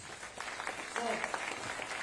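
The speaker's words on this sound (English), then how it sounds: "if we can give another round of applause to our elected officials" Faint, steady applause from an audience at a ribbon cutting for a building trades career center, honoring elected officials, with voices murmuring through it.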